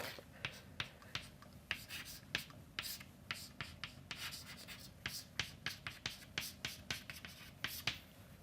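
A pen scratches and taps across a writing surface during a lecture on heterogeneous nucleation rates, producing a faint, steady series of short sharp strokes at irregular intervals, close by with no talking.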